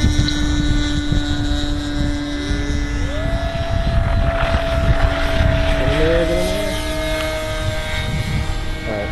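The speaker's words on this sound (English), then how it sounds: "this is the E-flite F-16" E-flite F-16 electric RC model jet on a 3-cell battery takes off and flies, a loud, steady whining ducted-fan tone that rises in pitch and sweeps as it climbs away overhead.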